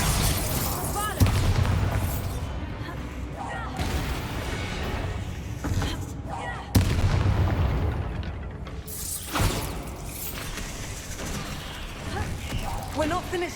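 A Bombarda spell explosion booms through a Hogwarts Legacy fight, with heavy blasts and crashing impacts over busy combat noise while voices speak.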